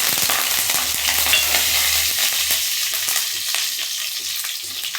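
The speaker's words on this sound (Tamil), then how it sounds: "சோம்பு நல்லா பொரிஞ்சிருச்சு." Fennel seeds spluttering and crackling in hot oil, a dense continuous sizzle with scattered sharp pops, steady and close throughout.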